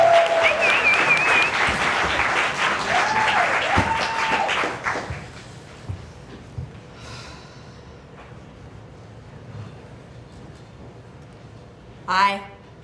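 A theater audience at a monologue slam claps and cheers loudly for several seconds, then the applause fades to scattered claps and quiet room noise, with brief vocal sounds near the end.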